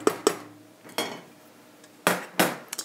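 A stick of room-temperature butter goes into a mixer bowl, giving a few sharp knocks and clinks against the bowl, heard as separate close impacts with quiet gaps between them.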